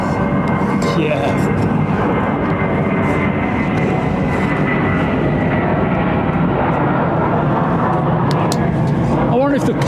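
Airbus A380 airliner at London Heathrow Airport in the late afternoon, giving a loud, continuous broadband jet roar that holds steady throughout, with people talking over it.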